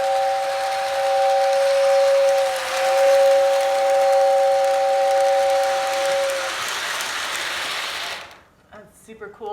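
A Polar Express toy train runs steadily with a sustained two-tone whistle sounding for several seconds, then the running noise stops abruptly near the end, leaving faint clicks and quiet.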